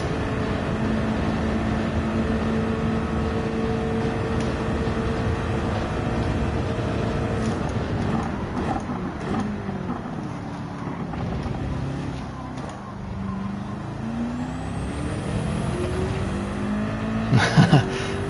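Race car engine in Gran Turismo 7 droning steadily with layered harmonic whine, pitch shifting through braking and corner entry, loud and continuous, with a brief sharp burst near the end.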